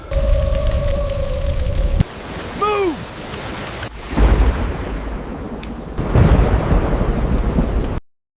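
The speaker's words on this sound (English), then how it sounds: "Dark storm approaching." Thunder rolls and cracks over rain as a dark storm sweeps across a dusty savannah, loud and close, with a swooping tonal effect early on and heavy rumbling bursts that swell again near the end.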